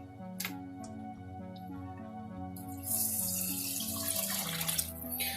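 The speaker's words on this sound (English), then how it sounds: "I'm going to do about 2 cups of water" Running water splashes into a pot over a steady low hum, about two cups poured for cooking rice, the pour growing louder and fuller partway through.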